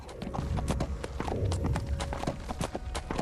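Horse hooves clip-clop in steady, rapid beats in a Dungeons & Dragons adventure game, close and distinct over a faint ambient background.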